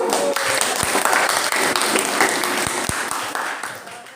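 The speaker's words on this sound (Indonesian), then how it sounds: "Berikan aplaus" A class applauds a presenting group during a physics lesson, with steady clapping from many hands that fills the room for about four seconds and fades slightly near the end.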